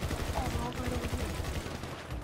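Rapid gunfire in the game GTA Online, sounding as dense back-to-back bursts over about two seconds, with voices talking underneath.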